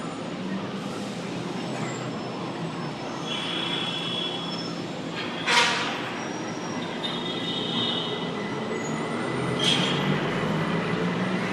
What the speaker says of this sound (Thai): สกายวอล์กของ MPK นี่มีรถไฟวิ่ง ที่ใกล้ซิดกับคนมากเลยท่านผู้ชม